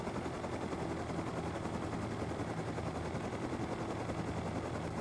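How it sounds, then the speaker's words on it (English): A helicopter in the game Rust descends slowly toward a landing, its rotor and engine drone holding steady and loud throughout, a dense mechanical thrum with no pauses. "to slowly and steadily decrease altitude to ensure you can land your helicopter effectively"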